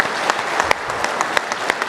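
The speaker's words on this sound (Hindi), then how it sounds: "एक बार जोरदार तालियां आप" Firm, dense audience applause at a public address by the Uttar Pradesh Chief Minister, steady and fairly loud, with sharper individual claps standing out.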